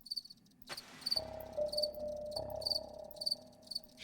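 A male domestic cricket stridulates by rubbing its hard outer wings together, giving repeated high, bright chirps in short regular bursts, close and clear over a faint background with a brief low tone.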